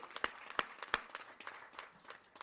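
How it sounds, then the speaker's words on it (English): A small audience at an NAACP-related gathering claps: a few sharp handclaps that thin out into scattered, quieter claps over a couple of seconds, faint and somewhat distant. "President Corey Betts, who also deserves a round of applause"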